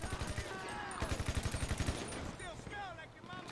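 Rapid bursts of weapon fire in GTA Online, quick repeated shots in close rhythmic clusters, loud and near, with talking mixed in.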